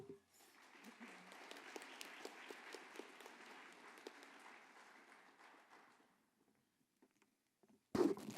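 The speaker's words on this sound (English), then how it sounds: "give her an extra round of applause" An audience at a conservation symposium session applauds after a short talk, a warm steady round of clapping lasting several seconds before fading out, followed by a brief loud bump near the microphone.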